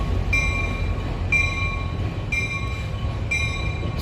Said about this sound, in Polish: Tam lokomotywa gdzieś nam odjeżdża.